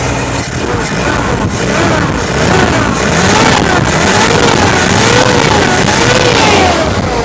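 A cold van engine with a standard carburetor runs loud and close and revs in repeated rising and falling swells over several seconds, with no talking.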